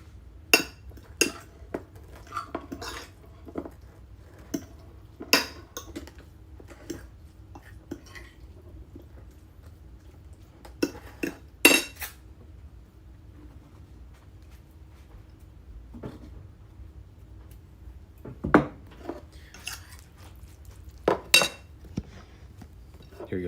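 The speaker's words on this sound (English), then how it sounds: "Just give it a little stir." Pasta stirred in a pot with a utensil, sparse sharp clinks and taps against the metal at irregular intervals over a quiet background.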